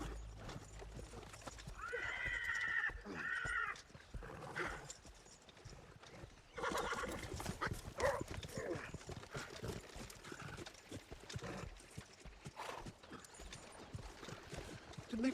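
Horse hooves clip-clop along a road in a medieval drama scene as riders travel, with a horse neighing and snorting at points; the hoofbeats carry steadily at moderate distance through the stretch.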